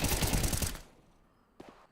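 AK rifle fire in a competitive video game match: a rapid automatic burst, loud and close, cuts off abruptly, followed after a short lull by two quick fainter shots.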